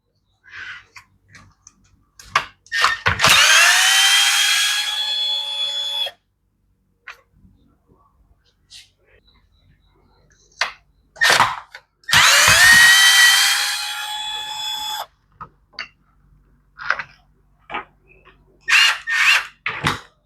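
A power driver spins out T25 screws from the case of a Husqvarna ignition coil in two sustained whirring bursts that rise in pitch, separated by quieter clicks and handling taps.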